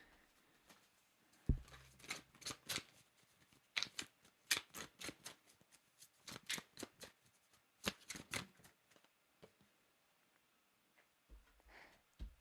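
Tarot cards being shuffled by hand, a run of quick crisp riffling bursts in uneven clusters, close and fairly quiet, with pauses between shuffles and no talking.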